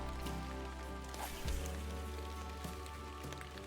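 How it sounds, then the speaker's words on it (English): Steady rain falls in the fishing game Fishing Planet, a soft continuous patter of drops on water and surfaces, fairly faint with a low hum underneath and no talking. "It's been raining pretty much the entire time"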